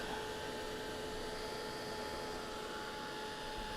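A heat tool blows steadily to dry gel glue on a craft project, giving a constant, faint airy whoosh with a thin whine. It runs alone without talk for the whole stretch.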